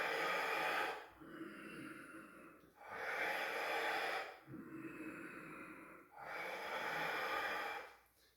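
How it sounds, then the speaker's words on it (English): Slow, deep breaths during a gentle morning breathwork session, drawn in through the nose and pushed out through the mouth in a close, steady rhythm of long airy inhales and exhales. "Switch to breathing in through the nose,"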